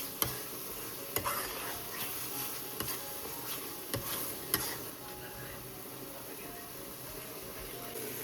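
Prawn malai curry cooking in a pan, a soft steady sizzle with occasional sharp clicks of a spoon scraping and stirring, with faint talk in the background.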